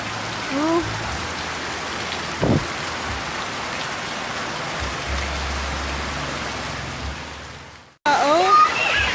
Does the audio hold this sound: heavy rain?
yes